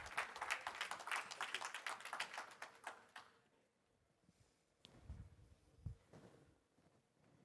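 Seminar audience applause, a short burst of many hands clapping for about three seconds that then stops, followed by quiet room noise and a few faint knocks.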